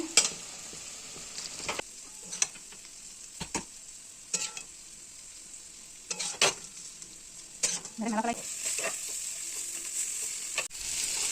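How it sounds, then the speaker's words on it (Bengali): Bitter gourd frying in a pan, with a continuous sizzle broken by repeated stirring scrapes and clacks of the utensil, close by, with no talking. "এই যে উচ্ছেটা ভাজা হচ্ছে"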